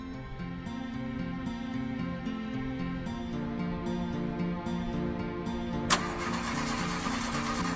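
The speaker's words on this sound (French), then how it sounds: "Démarre la voiture." A car engine cranks and catches, its layered mechanical tones running steadily before a sudden brighter hiss cuts in near the end, fairly close and loud with no talking.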